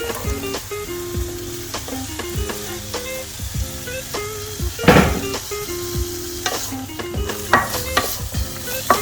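Small-cut vegetables, broccoli among them, sizzling in a pan with a steady frying hiss, broken by repeated clanks and scrapes of a utensil stirring against the metal, loudest midway through.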